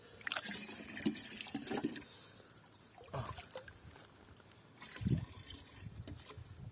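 Spring water splashes and trickles into a container outdoors, a faint, uneven gurgling with short bursts of louder pouring, heard alone without talk.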